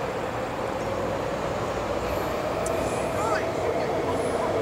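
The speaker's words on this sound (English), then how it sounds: "SkyTrain is this big train that takes us all the way from the suburbs in Surrey to downtown Vancouver." Vancouver SkyTrain running above ground past a park in Surrey, a steady rumbling roll with faint high rail squeals, heard at a moderate distance amid outdoor ambience.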